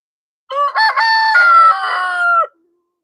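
A single rooster crows loud and close, one full harmonic cock-a-doodle-doo lasting about two seconds, standing alone against silence.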